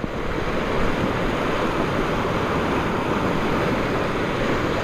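Whitewater river rapids in Patagonia, a loud, steady rush of turbulent water filling the scene continuously, with no voices.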